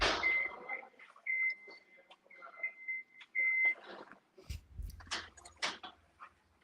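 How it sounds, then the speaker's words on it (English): Repeated electronic warning beeps sound in steady tones, with intermittent clatter and thuds of activity around them. "that beeping is going to drive my viewers nuts"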